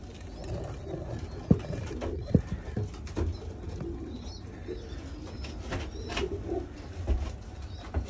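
Pigeons coo softly in a loft amid low rumbling background noise, with scattered clicks and knocks and a few louder bumps.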